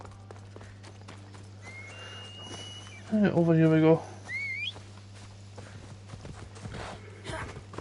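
A horse in the video game Assassin's Creed Odyssey gives a short burst of hoof clip-clops with a brief whinny, loud for about a second amid steady background game sound, while someone talks before and after.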